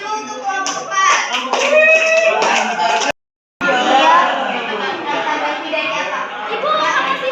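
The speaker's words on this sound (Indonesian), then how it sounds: "Tepuk tangan dulu untuk kelompok 4" A classroom of students claps for a group during a teaching session, with quick rhythmic clapping mixed with children's voices and chatter, briefly cut to silence midway before the noisy clapping and talk resume.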